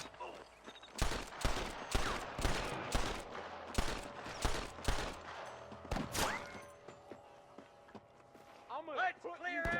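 A Red Dead Redemption shootout brings a string of sharp, loud gunshots in irregular volleys over about six seconds, with shouting voices and movement noise mixed in before the firing thins out.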